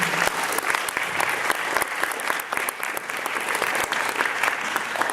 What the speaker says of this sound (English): Could we just have another round of applause for such an amazing speaker?